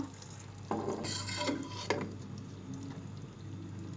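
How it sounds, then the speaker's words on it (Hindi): Beef karahi gosht is spooned out of the pan in a quiet kitchen, with a few brief scrapes and clinks of a utensil against metal. "कढ़ाई गोश्त को हम डिश आउट करते हैं।"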